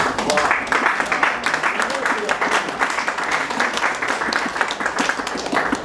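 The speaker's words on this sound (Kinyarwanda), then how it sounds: "Mwe tubakomera amashyi." A church congregation at a Family of Hope Ministry gathering claps steadily and loudly for a guest, the dense applause running unbroken for several seconds with cheering voices mixed in.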